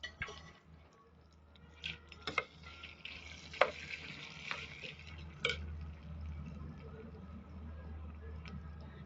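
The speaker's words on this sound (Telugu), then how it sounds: "మనం వేయించుకున్న పోపుని ఇప్పుడు మనం ముందుగా ఉడికించి పెట్టుకున్న పప్పులోని కలుపుకోవాలి." Fried tempering is stirred into cooked green chilli dal, giving a soft, low sizzle with scattered clinks and scrapes of a spoon against the pot, quiet and close.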